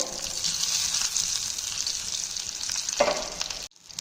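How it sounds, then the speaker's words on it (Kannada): Asafoetida, mustard seeds and garlic tempering in hot oil in a village kitchen, a steady close sizzle with faint popping and a brief stirring clatter near the end. "ಸ್ವಲ್ಪ ಇಂಗು ಸ್ವಲ್ಪ ಸಾಸಿವೆ ಹಾಕ್ಕೊಂಡಿದ್ದಾರೆ ಚೆನ್ನಾಗಿ ಫ್ರೈ ಮಾಡ್ಕೊಳ್ಬೇಕು"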